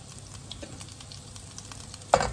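Green curry paste sizzles steadily in hot olive oil in a pan while a utensil stirs and scrapes, ending with a sharper clatter near the end.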